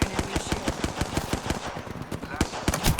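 Rapid automatic gunfire in the video game Apex Legends, loud, close bursts of shots in a fast repeating rhythm that runs the whole time, with a few heavier single reports mixed in.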